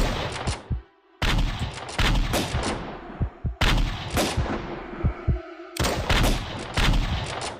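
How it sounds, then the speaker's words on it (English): A shotgun firing in a flash video game, with a rapid run of loud, punchy blasts in quick bursts separated by brief silent gaps, close and dominant throughout. "Okay, I'm whipping out the shotgun now."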